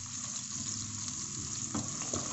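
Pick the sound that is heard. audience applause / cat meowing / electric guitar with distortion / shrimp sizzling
shrimp sizzling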